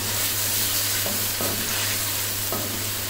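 Ginger and garlic paste sautéing in a pan, a steady, loud sizzle with a few scraping stirs, under a constant low hum.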